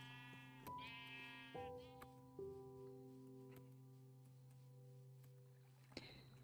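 Sheep bleating in Minecraft, several short nasal bleats in sequence, fairly quiet and alone over a steady background tone.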